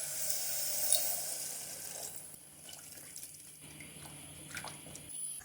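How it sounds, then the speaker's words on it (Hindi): About two glasses of water pour into a pressure cooker holding fried mutton, a faint, continuous splashing stream that softens after the first second or two. "अब हम गोश्त को गलाने के लिए तकरीबन 2 गिलास के करीब पानी ऐड करेंगे।"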